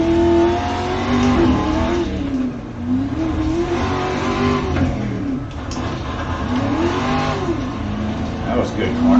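A rallycross race car in iRacing revs and shifts continuously as it goes around the course, its engine pitch rising and falling through the gears, loud and steady, with a voice talking over it.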